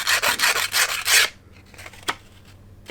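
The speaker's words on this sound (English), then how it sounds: "you need to use a bit of wet and dry 400 grit. Bit of emery, just like that" Close rhythmic rubbing as cast iron piston ring faces are sanded on 400 grit wet and dry paper, with several quick strokes and then quiet with a small tap.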